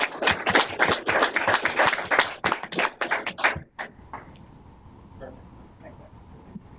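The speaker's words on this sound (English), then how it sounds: "Round of applause." A city council chamber fills with a few seconds of brisk, close applause from a modest crowd, then the clapping stops abruptly and leaves a quiet room with faint movement.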